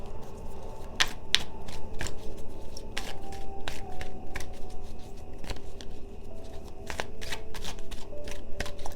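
A deck of playing cards being shuffled repeatedly up close, with crisp riffling bursts and soft flicks in a steady, uneven rhythm and no talking.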